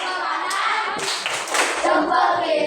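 Classroom children break into a rhythmic clapping cheer, a few sharp claps followed by a louder burst of group clapping, with young voices mixed in.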